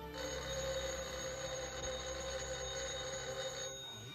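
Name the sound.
telephone ringing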